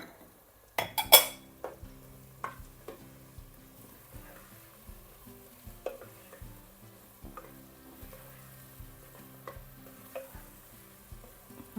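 Chopped mushrooms fry in a pan with onion and corn while a spoon stirs and scrapes, giving a steady sizzle broken by regular metallic clinks and knocks, with a sharp clatter near the start.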